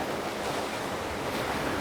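Ocean waves breaking at a shoreline at sunrise, a continuous loud wash of surf with wind rushing over the microphone.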